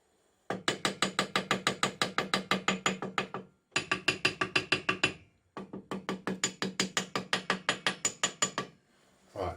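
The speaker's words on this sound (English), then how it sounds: "I hammer slightly in order to get a little bit of mould, get the metal rattling down into the mould" Molten metal just poured into a casting mould for a metal key tag, the mould tapped with a hammer to settle it: rapid, steady rattling taps in three long bursts with brief gaps, close and fairly loud, with no speech.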